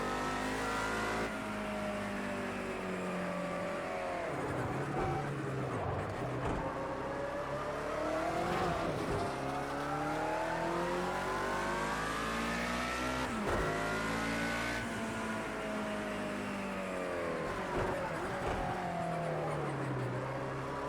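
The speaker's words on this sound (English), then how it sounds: "This car's got such a good sound to it." Mercedes 190E racing engine in Project Cars 2, loud and continuous throughout, climbing through revs with repeated gear-shift dips and sweeping pitch changes, no talk over it.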